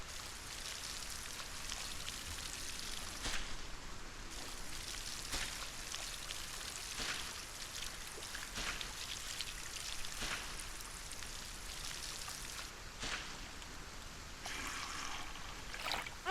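Rain patters into a rain collector in the Solarpunk game, a soft, continuous trickling hiss with scattered brighter drip splashes, steady and moderately quiet throughout.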